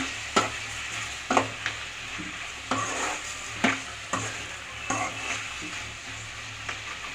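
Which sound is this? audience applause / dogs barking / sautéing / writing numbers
sautéing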